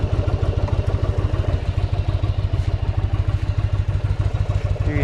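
A 1988 Yamaha Virago 750 cruiser motorcycle engine runs steadily close by, a loud, even low throb with rapid regular pulsing and light mechanical clatter throughout, with no talking.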